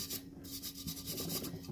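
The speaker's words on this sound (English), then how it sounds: "any tiny pieces of epoxy usually will sand right on off" Sandpaper rubs back and forth over the hardened epoxy edge of a tumbler rim, a quiet, close scratching in quick repeated strokes with no voices.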